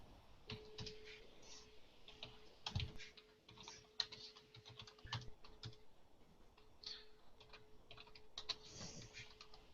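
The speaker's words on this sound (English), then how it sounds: "Heavy typing." Heavy, rapid typing on a computer keyboard, dense clattering keystrokes in uneven bursts with louder accented hits, close but fairly quiet, alongside a faint steady electronic hum.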